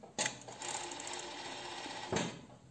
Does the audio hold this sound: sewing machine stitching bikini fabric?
yes